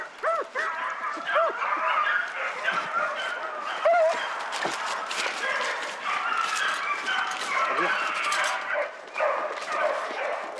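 Basset Fauve de Bretagne hunting dogs bay and yelp repeatedly during a rabbit hunt, several voices overlapping at mid distance in continuous excited bursts across the whole stretch.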